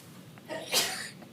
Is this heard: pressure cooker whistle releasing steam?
no